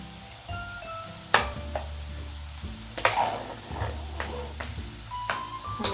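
Squid roast is stirred in a pan with curry leaves and coconut oil, giving a soft sizzle with several scraping clanks of a spoon against the pan at irregular intervals, fairly quiet overall.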